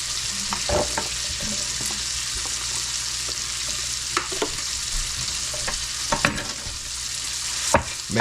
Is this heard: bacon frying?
yes